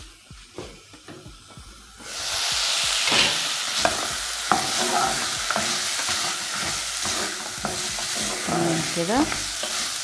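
Meat being stirred in a pot, scraping clanks at first, then a loud sizzling hiss of frying rising and continuing under repeated utensil knocks, close up; someone speaks briefly.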